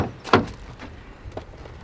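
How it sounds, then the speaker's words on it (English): Rear door of a Suzuki S-Cross Hybrid opening, a sharp latch click followed by a few softer clunks and rustles nearby. "Door opens relatively wide."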